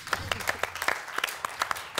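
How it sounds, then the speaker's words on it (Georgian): Studio audience applause on a Georgian comedy game show, a brief patter of scattered claps at moderate volume with a voice faintly underneath. "კარგია, აპლოდისმენტები."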